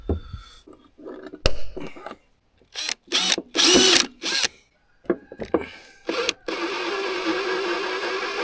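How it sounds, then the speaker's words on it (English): A power drill whirs in several short bursts separated by pauses, close and loud, before settling into one longer continuous run, boring a small hole into the radiator shroud of a Kubota SVL97 track loader. "drill a small hole into the shroud as close to the radiator as possible"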